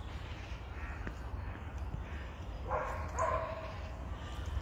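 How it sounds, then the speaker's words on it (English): A big crow caws outdoors on a park walk in nature, a couple of rough calls from moderate distance over a steady background hum, with no talk. "Oh, it's a big crow."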